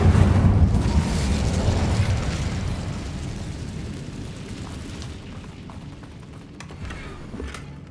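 A fire spell bursts in the Hogwarts Legacy video game, a loud rushing roar of flame that swells at the start and then slowly dies away into a lingering rumble with scattered crackles.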